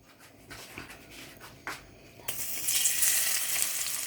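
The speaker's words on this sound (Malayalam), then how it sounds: "ആ നെയ്യിൽ തന്നെ ഞാൻ ഒരു ഏത്തപ്പഴം നല്ല 4ആയിട്ട് മുറിച്ച് നമുക്ക് അതും കൂടെ ഇതിനകത്തിട്ട് വഴറ്റിയെടുക്കണം" Chopped plantain sautéing in ghee for ada pradhaman: a few soft clatters and stirring scrapes, then a brighter hissing sizzle swells up about halfway through and keeps going.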